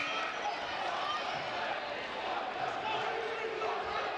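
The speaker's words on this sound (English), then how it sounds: "the crowd is starting to come to life" A crowd cheers at a UCF vs East Carolina women's college basketball game in the arena, a steady broad roar that holds throughout with voices mixed in.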